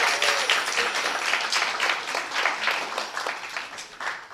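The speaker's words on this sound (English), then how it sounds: "One clapping for Sachi Mata." An audience at an evening religious program bursts into sustained applause, many hands clapping densely and loudly for several seconds with no speech over it.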